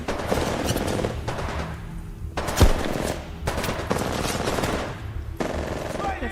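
Enemies fire at the player in Titanfall 2, loud machine-gun bursts in several long strings with brief gaps between them and one heavier thump partway through, close and dominant, with no clear talking.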